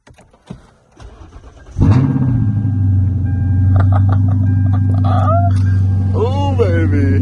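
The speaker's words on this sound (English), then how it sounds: "It is time for the first start in a very long time of the LS460" A Lexus LS460 engine cranks and catches after some faint handling noises, then settles into a steady, smooth idle close by.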